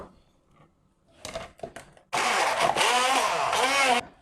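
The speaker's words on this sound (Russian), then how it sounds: "С помощью блендера приготовлю морковный соус." A blender whirs steadily for about two seconds, loud and close, purées cooked carrots with a little broth into a sauce after a few brief clicks and knocks.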